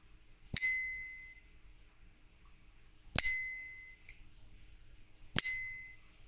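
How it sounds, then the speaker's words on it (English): Three separate sharp metallic clicks from a folding knife, each followed by a thin, sustained ringing buzz as the pocket clip vibrates and then fades, heard up close in a quiet room. "it's just the clip vibrating"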